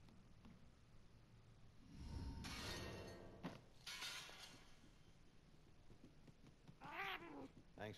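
Cat meowing inside the video game Murdered: Soul Suspect, several short mewing cries rising and falling near the end, heard over a game soundscape with low ambient hum and a louder burst of environmental noise midway.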